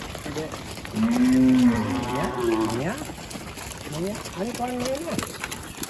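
Cows moo in long, low calls in a cowshed at a Goa cow shelter, one loud and close, then several more overlapping, with faint voices and farmyard background.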